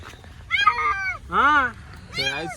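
A stray cat trapped in a well meows three times in clear, separate calls, close by, with a short pause between each.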